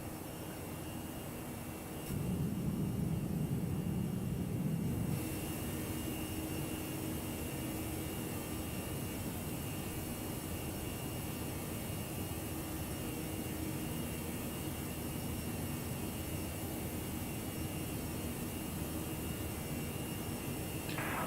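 Jet engines of a Toliss A319 airliner in X-Plane 11, a steady broadband roar with a persistent hum that swells briefly early on and then holds at an even level throughout, with no talking.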